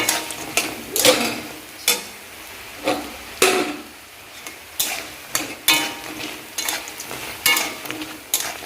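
Snacks fry in hot oil on a rainy day, a low sizzle broken by repeated sharp scraping and clattering strokes of a utensil stirring in the pan, close and fairly loud.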